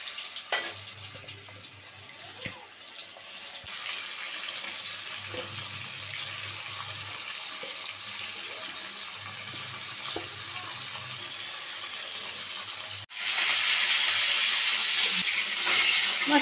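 Shankar fish pieces frying in oil, a steady close sizzle and bubbling with a few faint clinks, then a sudden louder burst of hissing near the end; no talking.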